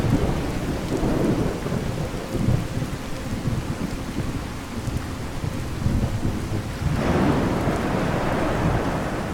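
A heavy thunderstorm in Fallout 4, with the True Storms weather mod active: steady pouring rain and deep rolling thunder fill the scene, swelling louder toward the end, with no voices.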